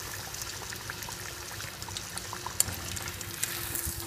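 Fish slices frying in hot oil, a continuous close sizzle with small crackling pops, one sharp pop standing out midway.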